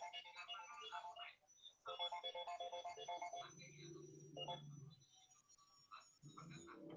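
A phone ringtone rings in a melodic electronic pattern, repeating in bursts with brief gaps and carrying on for several seconds, fairly faint and close, with a low hum partway through.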